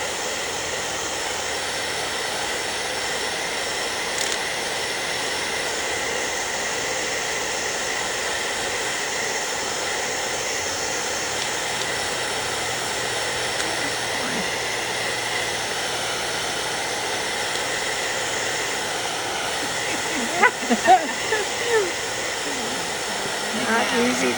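A handheld heat tool blows hot air onto wax on paper for craft work, giving a steady, loud, even whoosh like a hair dryer that runs the whole time, with a few faint knocks near the end.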